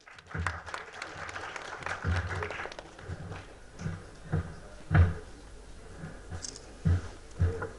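An audience at an institute honours ceremony applauds to welcome a speaker, moderate clapping mixed with low thumps and room noise, swelling in a few louder bursts.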